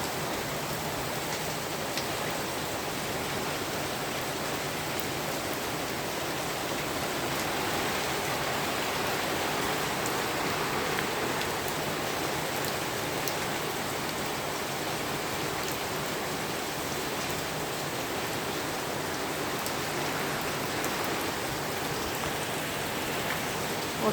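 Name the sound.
heavy rain falling outside a balcony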